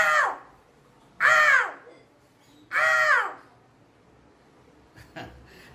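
A voice imitates a crow, giving three loud, harsh caws at close range spaced about a second and a half apart, with a faint extra call near the end.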